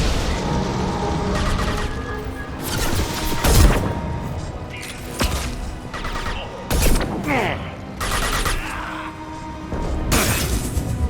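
Gunfire aimed at the player in the Mass Effect 2 shooter: irregular sharp shots and impact crashes spread over several seconds, loud and close, with mechanical clatter and a busy combat backdrop.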